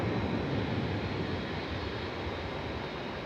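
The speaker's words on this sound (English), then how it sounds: "I can hear this noisy 757 facing us." A steady, broad roar of Boeing 757 jet engines at Manchester Airport runs throughout, loud and constant with a rushing, slightly rumbling texture.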